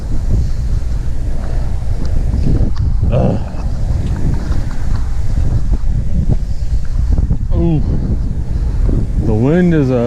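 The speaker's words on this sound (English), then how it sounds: "it's a headwind as well as coming from the right" A headwind gusting from the front and right buffets the microphone during a fixed gear bike ride in Benicia, California. The wind makes a loud, constant low rumble, and a voice talks faintly beneath it.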